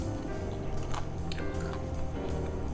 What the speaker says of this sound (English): As you can hear, it's crunchy, it tastes like chips.